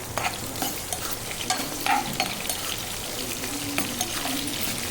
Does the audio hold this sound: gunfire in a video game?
no